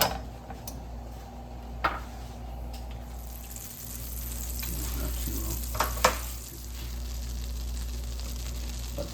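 Three tablespoons of butter melt and sizzle in a pan to start a sauce for penne rustica, giving a steady low frying hiss with a few faint utensil clinks.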